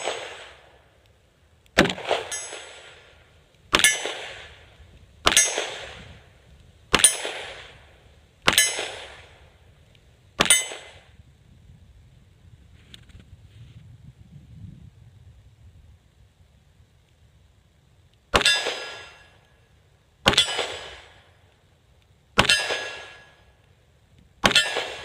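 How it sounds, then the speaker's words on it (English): An old Ruger Service Six revolver hits steel targets on an outdoor range. Evenly spaced shots each end in a bright metallic clang with a ringing decay, seven in a row, then a quiet gap, then four more. "shooting those beautiful steel hard targets with this old Service 6"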